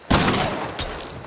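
Silenced gunfire in Hunt: Showdown lands as a sharp close burst followed by a second, softer shot under a short decaying tail.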